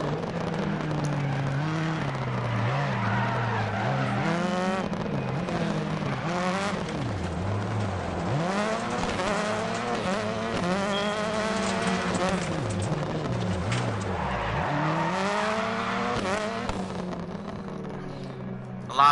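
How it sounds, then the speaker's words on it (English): Rallycross race cars in a video game set at Catalunya, engines rising and falling in pitch through repeated gear changes and bursts of acceleration, with tire skids and scrabbling under the continuous engine note. "But God, these cars sound awesome."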